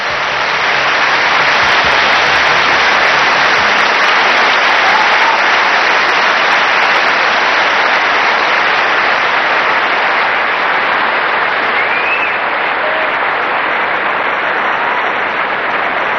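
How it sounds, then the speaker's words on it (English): A packed stadium crowd roars and applauds at the 1997 Australian Open women's final between Hingis and Pierce, a loud, dense, unbroken wash of cheering and clapping that holds throughout. "And to hear the roar of the crowd."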